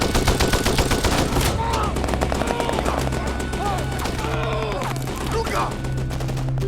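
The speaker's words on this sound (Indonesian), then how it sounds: "mereka mendapat serangan mendadak yang membuat Lukas tertembak di bawah leher" Rapid bursts of automatic gunfire crackle through a film ambush scene, loud and dense throughout, with shouted voices breaking in over the shooting.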